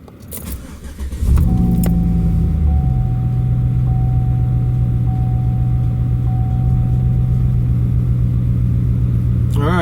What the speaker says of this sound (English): I'm going to go ahead, fire her up, and see what she says to me.